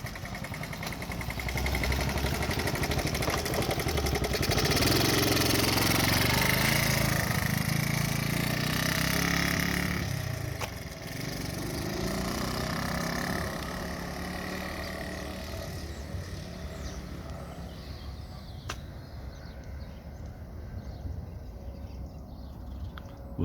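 A 1970 Honda ST50 Dax motorcycle engine runs after a carburetor repair, a steady buzzing small-engine drone that rises for several seconds, then drops and settles into a lower, uneven running note outdoors.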